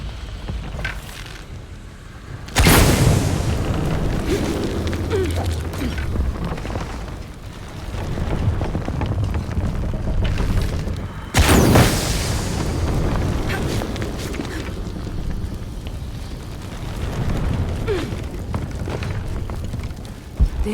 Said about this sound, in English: Exploding that gas might move the pendulum.